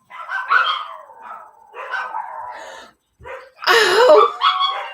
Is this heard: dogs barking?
yes